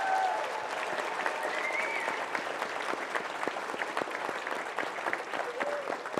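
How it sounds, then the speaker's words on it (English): Applause from the audience at a college fall address: a crowd claps steadily and fairly close throughout, the sound holding an even level with no talking over it. "Let's give Maya a round of applause."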